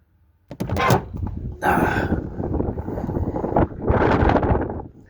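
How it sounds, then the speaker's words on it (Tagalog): Strong wind buffeting the microphone in loud gusts, with a thump near the start. "Sobrang lakas ng hangin dito guys."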